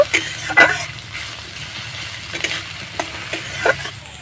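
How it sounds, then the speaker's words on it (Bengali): Chopped onion and carrot being stir-fried in a pan for a semolina sandwich filling, with a steady sizzle and irregular scraping strokes of a spatula, close and moderately loud, no talking. "এবার আমি সব কিছু নাড়াচাড়া করে হালকা ভেজে নেব"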